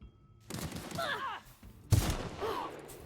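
Two heavy sniper rifle shots ring out in The Outer Worlds, each a sharp close blast with a ringing tail, with game voices sounding between them.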